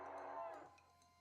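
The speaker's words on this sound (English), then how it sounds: "A hellcalf is grazing near." A demon hellcalf in the Western comedy game West of Loathing lets out a single drawn-out moo, clear and close, with no talk over it.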